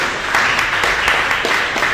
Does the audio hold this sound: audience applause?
yes